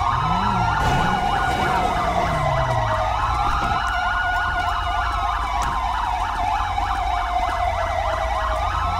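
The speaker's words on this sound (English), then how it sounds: "police sirens activated" A police car siren wails and yelps in the FivePD police video game, loud, continuous and close, with sweeping rising and falling tones layered over engine rumble and no voices.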